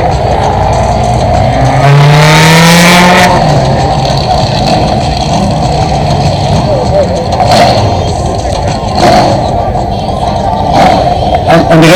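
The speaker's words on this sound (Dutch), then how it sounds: "En de racewagens komen nu naar binnen." Race cars, among them a Corvette C3, rolling onto a circuit, with loud engine roar and a rising rev sweep early on, then steady close motor noise; a voice talks over the engines throughout.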